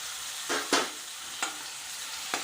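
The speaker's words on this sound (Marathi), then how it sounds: "एक कांदा टाकलेला आहे थोडा उभा चिरून घेतलेला आहे मी तर त्यानंतर आता मी इथे टाकत आहे एक टमाटरची पिवरी" Tomato puree hitting a pan of frying sliced onion, a soft continuous sizzle with four sharp scraping stirs at uneven intervals, fairly close and moderately quiet.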